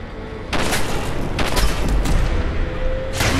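Shotgun blasts in Fallout 4 during a fight with an Assaultron robot, a few loud, close booming shots with sharp onsets, separated by short gaps and followed by lingering rumble.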